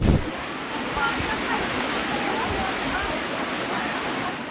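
Rushing floodwater roars continuously as a broad, steady wash of noise, loud and close, with no breaks.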